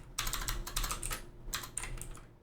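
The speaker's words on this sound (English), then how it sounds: "I'll wait till you're done typing." Rapid clicking bursts of typing on a computer keyboard, close and fairly loud, in uneven clusters with brief pauses between them, with no voices.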